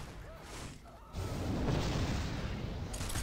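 Fireball spell explosion in the fantasy battle game Warhammer Mark of Chaos, a sudden heavy boom that rolls into a sustained rumbling blast over ambient battlefield noise.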